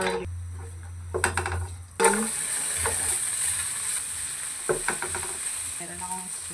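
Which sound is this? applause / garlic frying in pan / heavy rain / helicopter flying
garlic frying in pan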